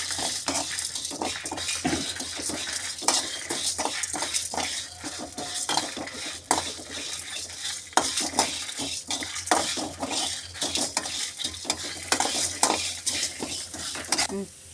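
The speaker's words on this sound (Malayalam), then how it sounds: "ഇത് നന്നായിട്ടൊന്ന് ഫ്രൈ ചെയ്തെടുക്കാം." Spices and curry leaves frying in a pan for a chicken curry, with constant crackling sizzle and quick repeated scrapes and clinks of a utensil against the pan, busy and close throughout.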